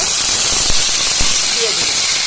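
Ground spice paste hits hot oil already tempered with cinnamon, cardamom and bay leaf for an ol kochu dish, giving a loud, continuous close-up sizzle with a few small pops.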